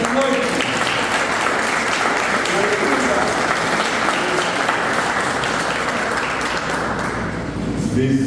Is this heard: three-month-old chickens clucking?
no